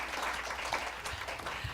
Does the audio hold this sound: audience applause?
yes